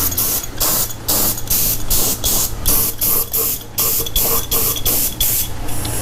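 Spray gun misting Cerakote coating onto a surface for a battleworn finish, a steady close hiss broken into irregular short bursts as the trigger is pulsed, some passes heavier than others.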